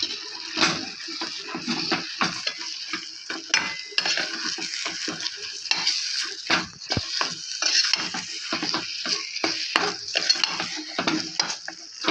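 A spoon mixes dabeli filling seasoned with chili, salt and sugar in a pan, producing continuous close scraping and clattering strokes with a faint sizzle underneath, steady throughout.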